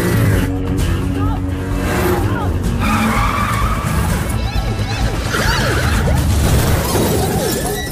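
Loud action-film chase: a car skids with squealing tyres and rams the roof of its body into a jet engine of a plane before takeoff, with smashing impacts under dense engine roar and overlapping voices.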